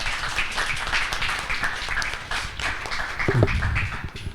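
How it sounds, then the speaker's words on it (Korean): Audience applause at a Daejeon startup forum on the space industry: a crowd claps steadily and densely for the full stretch, with no voices over it. "큰 박수 부탁드리겠습니다."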